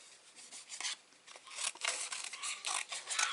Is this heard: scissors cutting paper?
yes